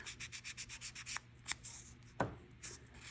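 Sandpaper rubbing metal clay cross stud earrings to remove burrs, a run of quick rhythmic rasping strokes followed by a few isolated scrapes and taps, close and fairly quiet.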